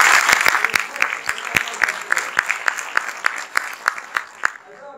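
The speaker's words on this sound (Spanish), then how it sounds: "Demos un fuerte aplauso a Alfredo." Audience applause from a seminar crowd, a burst of brisk, sharp clapping that stays dense and steady for about five seconds before thinning out at the end.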